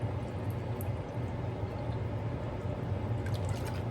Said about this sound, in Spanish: prácticamente le estoy poniendo menos de 1 litro de agua